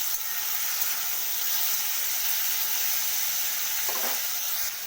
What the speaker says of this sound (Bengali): তো এগুলো একটু ভেজে নিই।